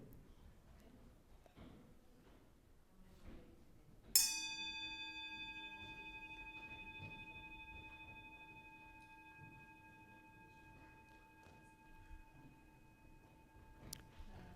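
A single bell struck once in a Sunday service, ringing out with a sharp attack and a long, slowly fading sustained tone against quiet room background.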